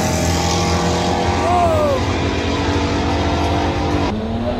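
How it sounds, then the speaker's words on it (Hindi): Engines of a Porsche 911 and a Lamborghini at a race track pit stop, a loud steady roar with a rising whine of revving, close and continuous before a sudden change in pitch near the end. "एक है पोर्शे ऑलमोस्ट मेरे ख्याल से शायद 911 है और दूसरी लैम्बो।"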